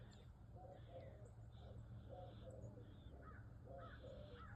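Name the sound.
bird calling outdoors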